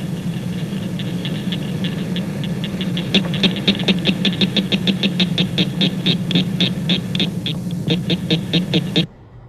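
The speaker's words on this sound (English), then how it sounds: "Here is the call of the northern cricket frog," Northern cricket frogs, Acris crepitans, give a rapid series of sharp metallic clicks that speed up in a steady accelerating train over a constant low background hum, fairly loud and alone.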